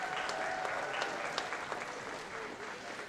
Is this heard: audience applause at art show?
yes